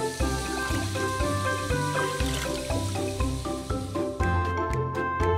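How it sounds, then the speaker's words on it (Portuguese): Water poured out of a bowl after washing raspberries in a children's cartoon about little birds, with dripping, sloshing liquid sounds under steady, bright cartoon music throughout. "Retire o excesso de água da tigela."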